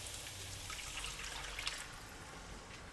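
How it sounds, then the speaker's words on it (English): About 600 ml of water is poured into a pan of curry with luncheon meat and potatoes, giving a steady splashing, gurgling rush that holds at an even level for a few seconds with no voices. "Add in 600 milliliters of water."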